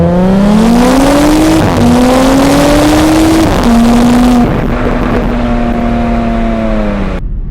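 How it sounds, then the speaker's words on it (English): Audi S5 all-wheel drive car accelerating hard from the line in first gear, a loud close engine roar climbing in pitch through several gear changes, then cutting off abruptly. "I'm gonna try to get an acceleration right here."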